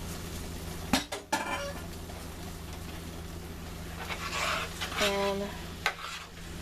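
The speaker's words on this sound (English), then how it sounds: "let's add our noodles back to the sauce" Noodles go into a vegetarian stroganoff sauce and are stirred in a pan, with close utensil scrapes and clinks against the cookware over a faint sizzle. A voice speaks briefly.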